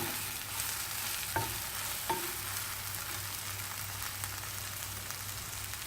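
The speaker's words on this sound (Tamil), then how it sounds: "மிதமான சூட்டில் நல்லா வதங்க விடணும். இடையிடையே நல்லா கிளறி விடணும்." Brinjal stir-frying in a pan over medium heat, with a steady, soft sizzle throughout and two brief clicks as the pieces are stirred, close and moderately quiet with no voices.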